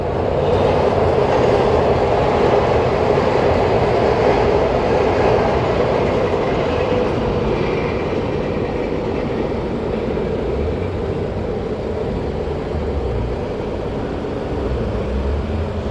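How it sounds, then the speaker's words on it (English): A MARTA Red Line metro train rumbles steadily past at close range at West End station, a continuous heavy roar of wheels and rail noise lasting throughout, with no voices. "Here comes a red line train."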